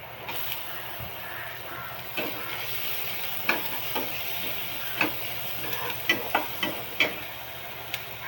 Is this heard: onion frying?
yes